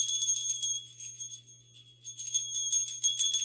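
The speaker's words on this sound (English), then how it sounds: "I'm gonna ring the bell real quick and then shuffle again." A small hand bell rung during a tarot reading session gives a continuous bright, shimmering high ringing for several seconds, pulsing steadily in close, clear strokes with no talk.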